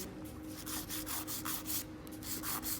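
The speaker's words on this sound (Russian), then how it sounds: "держим пилочку ровно" Steady rhythmic rasping of a nail file being drawn across a fingernail, shaping a square nail into an oval during a manicure correction, with repeated short close strokes and no talk.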